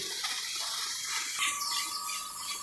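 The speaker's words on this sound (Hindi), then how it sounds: "तो प्रेशर की सीटी चलना शुरू हो गया।" A loud, high-pitched hiss of steam jets from a pressure cooker cooking kadu gosht, with a whistling tone that shifts midway, steady and close.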